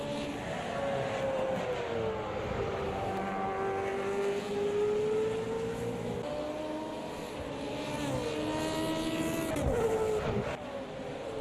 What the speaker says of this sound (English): Enjoy the view of these cars going around the track, though.